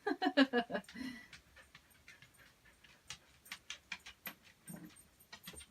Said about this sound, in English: I like to avoid the clink, clink, clink of his chain when I can.